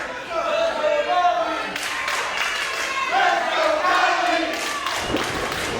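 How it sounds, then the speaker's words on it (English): A wrestling crowd at a live tag-team match rallies behind a wrestler, cheering and clapping in a steady, loud roar over several seconds, with a sharp burst of noise near the end. "Crowd rallying behind Kylie Alexa."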